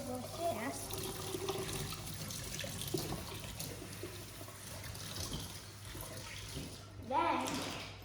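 A kitchen tap runs softly and steadily while fresh rosemary is rinsed for a confit of duck, and people talk quietly over the flowing water.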